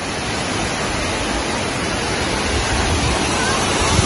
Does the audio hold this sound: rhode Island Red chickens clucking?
no